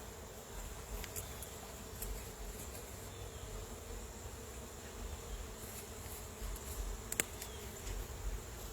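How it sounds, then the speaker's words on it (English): Honey bees in an opened hive during an inspection make a steady, even hum that goes on the whole time, with occasional faint clicks and knocks from handling close by and no speech. "This little cluster of bees right over in here"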